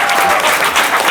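A studio audience at a comedy quiz show claps in a dense, continuous burst of applause that stays close and loud for its full brief length.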